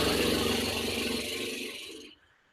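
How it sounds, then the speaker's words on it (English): Breathy lip trill exhale, horse-lips style, made during a guided breathing exercise: a steady fluttering buzz at close range, holding for about two seconds before cutting off abruptly into silence. "Exhale with a sound I call horse lips, which sounds like this."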